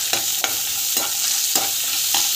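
Chillies sizzle in hot oil in a pan, with a steady frying hiss. About five sharp scrapes of a spoon stirring them come at a regular pace, close up and with no talking.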